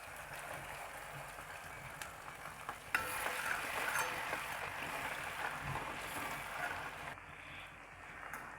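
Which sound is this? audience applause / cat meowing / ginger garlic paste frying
ginger garlic paste frying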